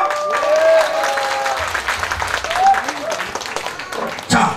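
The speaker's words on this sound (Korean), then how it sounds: "신민당에 박수 치면서 한번 들어갈까요?" Audience clapping at an outdoor show by a gakseori performer during the Jeungpyeong Insamgol festival, steady and fairly loud, with a voice and musical tones running over it and a brief sharp burst near the end.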